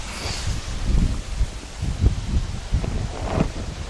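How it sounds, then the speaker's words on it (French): Wind gusting through a vegetable garden on a dry, blustery day, a steady rushing, rustling wash with soft low buffeting swells close to the microphone, no voices. "On a cette année une journée pleine de vent et sans humidité"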